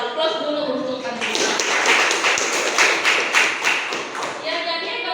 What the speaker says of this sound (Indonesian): Aplaus dulu untuk Andi.